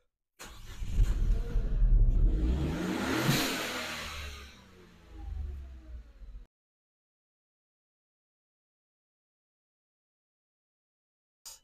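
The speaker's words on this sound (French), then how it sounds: "je vais mettre le véhicule en route et on va voir l'accélération" A Renault Clio TCe engine starts and revs up, a loud close roar that climbs and falls, eases, surges once more and then stops, followed by silence.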